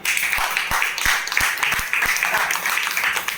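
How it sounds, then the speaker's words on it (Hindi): A training-session audience gives a burst of loud clapping, with distinct sharp claps standing out over a rustling crowd wash, fairly close and energetic. "एक बार जोरदार ताली।"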